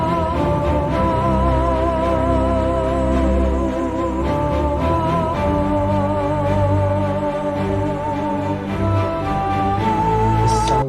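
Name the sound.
orchestral cinematic music sketch with huge orchestration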